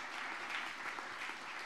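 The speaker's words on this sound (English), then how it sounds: "Can we give them a big round of applause for the" Conference audience at a political opening plenary applauding in a steady, even wash of clapping, fairly faint and unbroken, with no voices over it.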